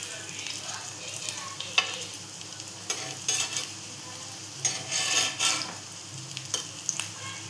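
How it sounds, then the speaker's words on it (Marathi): Vadas frying slowly in oil over a low gas flame, a steady soft sizzle with occasional stirring scrapes and clinks of a utensil against the pan, close and continuous, no talking. "हे तळायला घाई करायची नाही, नाही तर आपलं पोट बिघडायचं. कमी गॅसवर तळायचे"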